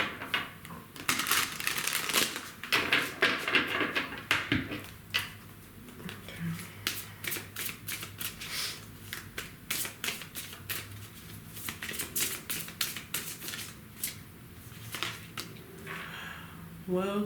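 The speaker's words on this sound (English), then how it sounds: "One more shuffle." Tarot cards are shuffled by hand in repeated riffling bursts of crisp, rapid paper clicks and slaps, close and fairly quiet, with someone speaking between the shuffles.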